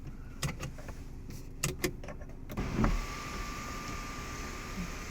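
The sunroof motor of a 2016 Mazda CX-3 Grand Touring runs inside the cabin, a soft steady electric whir that starts after a few faint clicks and continues evenly to the end.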